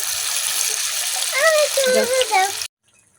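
Dried baby shrimp fritters sizzle and spatter in hot oil in a village kitchen, a steady close frying hiss with bursts of bubbling, a voice faintly in the background, ending abruptly.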